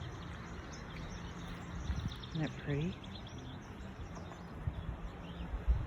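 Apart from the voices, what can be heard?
birds singing on a hike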